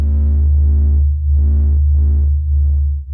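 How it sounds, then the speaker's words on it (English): Sped-up sonification of the sun's pressure wave oscillations: a deep, steady droning hum with slow rhythmic swells of brighter tone pulsing about once per second, throbbing and continuous. "This is the sound of the sun singing."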